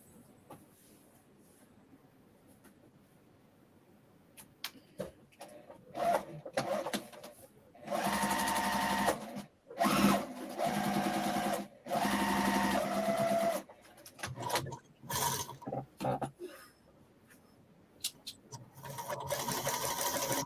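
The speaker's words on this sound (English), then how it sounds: "I'm just going to sew something else on top." A sewing machine runs in several bursts of steady stitching on fabric, with short pauses and quieter gaps between runs, close and fairly loud.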